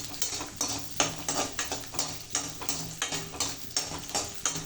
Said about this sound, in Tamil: இதுக்கு இந்த பூண்டுக்கும் மிளகாக்கும் பூண்டை போட்டுக்கலாம். அந்த பூண்டு சவந்து வரட்டும்.